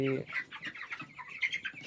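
A cluster of twenty-day-old chickens on a poultry farm clucking and chirping close by, overlapping calls in quick succession.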